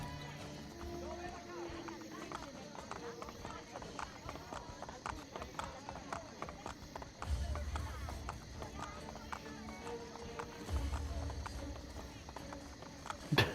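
Horses running in the Assassin's Creed Ezio trilogy video game, a quick continuous clip-clop of hooves under game sounds and speech, with louder thuddy bursts partway through.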